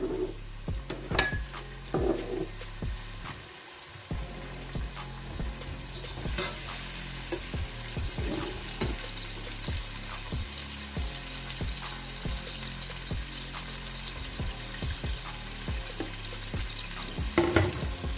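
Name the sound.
onions frying and browning with garlic-ginger paste and chillies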